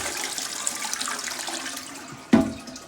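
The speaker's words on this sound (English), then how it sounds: "You got the button here now, short flush." A newly repaired toilet gives a short flush when its button is pressed, with rushing water running steadily and fairly loud, then a sharp knock near the end.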